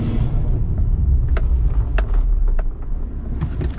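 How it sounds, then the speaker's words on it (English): Loud, steady road roar and rumble from the tires of a 2018 GMC Sierra 4x4 pickup, with a few brief clicks and knocks over the drone. "The tires are noisy as all get out"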